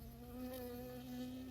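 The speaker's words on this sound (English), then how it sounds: "I got stung by a bee." A bee in the video game Firewatch drones with a steady tonal buzz, close and continuous over a faint outdoor background, with no talking.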